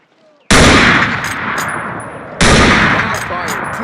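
Springfield rifle fired in the World War II shooter Call of Duty, two loud close booming shots about two seconds apart, each followed by a long rolling echo.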